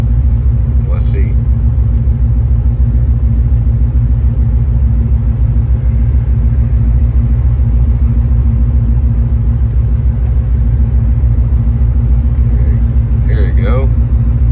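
A Ford Coyote V8 swapped into a vehicle idles steadily for the whole stretch, a deep, loud, continuous rumble with no revving, joined by a couple of brief faint clicks and rattles.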